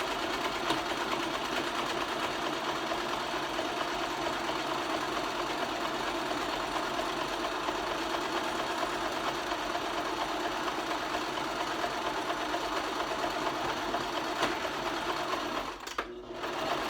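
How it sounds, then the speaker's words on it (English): A sewing machine stitching T-shirt fabric runs continuously at a steady fast pace, a close mechanical whirring hum that stops abruptly just before the end. "And with the sewing machine, you get a nice tight stitch."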